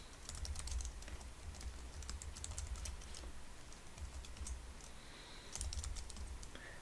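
Steady typing on a computer keyboard during Python programming, a continuous run of clicky keystrokes with low thumps underneath, fairly quiet and with no voice over it.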